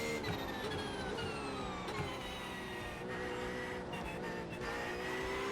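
GT3 race car engine droning in the slipstream behind another car in the iRacing sim, a steady high harmonic whine with shifting pitch, moderately loud and continuous with no talk.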